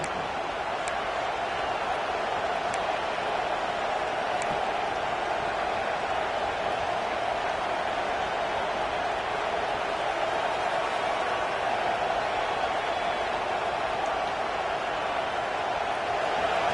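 Stadium crowd at a football game, a continuous, loud, even roar of many voices filling the whole stretch with no breaks or distinct peaks.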